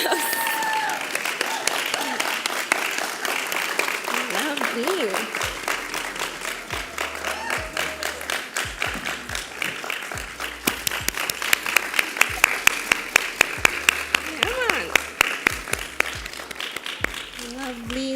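Sustained audience applause at an MSOT pinning ceremony for award recipient Anika Thomas, with many hands clapping steadily and growing into sharper, louder claps midway, while voices and cheers mix in.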